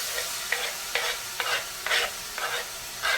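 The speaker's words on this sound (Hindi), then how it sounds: "अभी डाल रही हूँ मैं इसमें चॉप्ड अनियन एंड टोमेटो, जो मैंने बहुत बारीक चॉप करा है।" Finely chopped onion and tomato go into roasting makhana in a pan, followed by about seven rhythmic scraping stirs over a faint sizzle.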